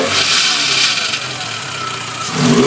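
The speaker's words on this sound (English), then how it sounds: "The engine doesn't sound too horribly bad at all, except for that exhaust leak, until I rev it up." A VW Jetta Mk4 2.0 engine with an exhaust leak runs loud and close, with a rough, raspy hiss under the engine note that builds again near the end as it is revved.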